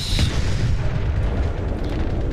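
Continuous heavy low rumble of artillery shells exploding in War Thunder tank combat, loud and steady with a dense booming roar and a sharper crack near the start.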